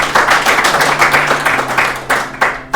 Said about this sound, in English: Have a nice round of applause, please.